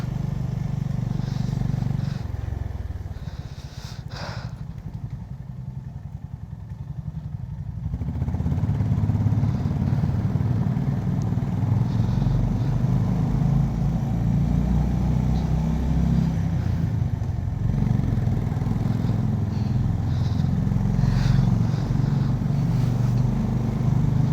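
A motorcycle riding along a rough mountain road in Arunachal gives a continuous low engine rumble with road clatter, easing for a few seconds early on before returning at full strength.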